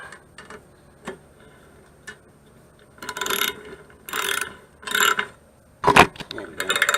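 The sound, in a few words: bolts being tightened down on a pressure washer engine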